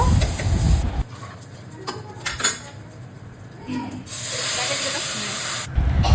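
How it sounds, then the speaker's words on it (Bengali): Fried mung dal tipped into hot oil tempered with spices and ginger, bursting into a loud hissing sizzle that fades to a softer bubbling crackle, with utensil clatter, then a fresh surge of sizzle near the end. "এবার ডালটা আমি ফোড়নে দিয়ে দিব"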